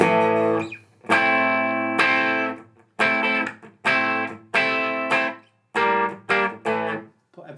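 An electric guitar through a Line 6 Catalyst amp on its Chime voicing plays bright, ringing chords, about eight separate strummed hits, each sustaining briefly before cutting off, with no talking.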